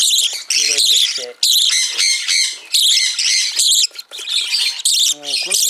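A Senegal parrot chick squawks in loud, harsh bursts while being hand-fed, with a few brief higher-pitched calls scattered among the repeated squawks.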